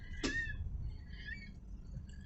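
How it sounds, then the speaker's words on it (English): Bird calling outdoors near old military battery huts on Hoy, Orkney: a single short squawk followed by fainter drawn-out calls, quiet and somewhat distant against low ambient noise. "Well, what sort of bird that is."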